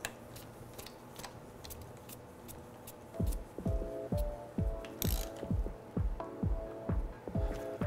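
A ratchet clicks in quick repeated strokes, close and crisp, tightening a 10 millimeter bolt on a transmission shift solenoid pack, starting after a few seconds of low background noise.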